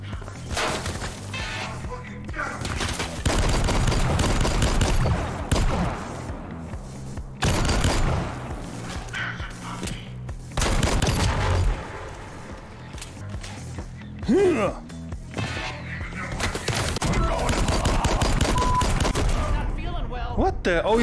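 Shotgun blasts and a heavy barrage of gunfire fill a VR first-person shooter, loud, close and dense. Sustained volleys come in waves with short lulls between them.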